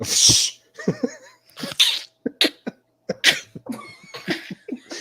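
A sharp, loud sneeze bursts out at the start, followed by a second sneeze and a scatter of short coughs and breathy sounds, close to the mic with no one talking.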